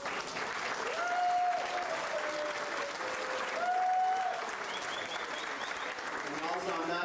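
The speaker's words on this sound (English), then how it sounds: "so they deserve a clap" An audience at an athletic hall of fame induction ceremony applauds in a sustained, even wash of clapping, with a voice speaking over it and a whistle-like tone rising briefly.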